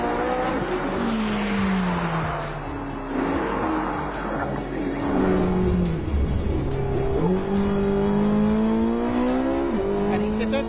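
A 2018 Porsche 918 Spyder with 887 hp accelerates hard up a road, its engine note climbing repeatedly through the gears, loud and close, with brief tire squeal.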